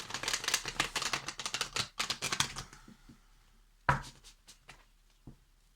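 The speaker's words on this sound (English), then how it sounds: "I'll just give it 2 more shuffles." Deck of tarot cards riffle-shuffled twice up close, a fast fluttering burst of card flicks followed by a few sharp taps and a single squaring knock, then near silence.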